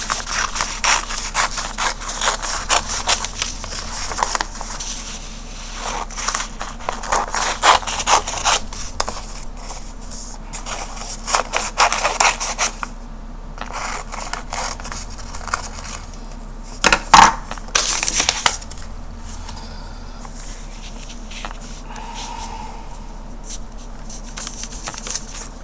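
Scissors snip away excess tissue paper from a decoupage cardinal ornament being glued with Mod Podge, giving a run of fast, close crisp cuts and rustling in the first half, then sparser handling noises.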